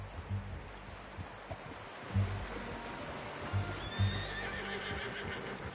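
A horse whinnies near the end while hooves clop steadily over a rushing outdoor ambience in Red Dead Redemption 2.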